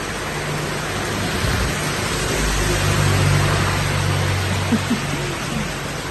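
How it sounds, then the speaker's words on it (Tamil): Heavy rain on a motorcycle ride along a road in Kerala, a dense, steady roar of rainfall and wind noise filling the whole stretch, loud and close with a low engine rumble underneath. "பார்த்தீங்களா என்ன மழை, செம்ம மழை."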